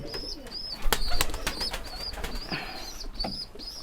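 Giribaz pigeons cooing and calling at a pigeon farm in Rajshahi, with repeated coos, a few sharp wing flaps and bursts of bird calls close by and fairly loud, without speech.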